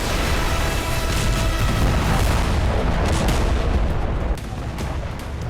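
A continuous loud roar with deep, rumbling booms of explosions at an airbase where fuel trucks caught fire, heavy and sustained, easing slightly toward the end.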